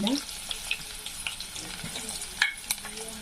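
Amla pieces fry in hot oil with turmeric, crackling and sizzling busily up close while scattered clicks and scrapes from stirring pop through the bubbling.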